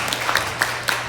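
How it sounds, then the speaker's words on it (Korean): A short burst of audience clapping for panelists taking their seats at an urban regeneration experts' workshop, with a few sharper individual claps standing out over the continuous patter. "오늘 토론자가 다 앉으셨는데, 우리 먼저 박수 한번 치십시오"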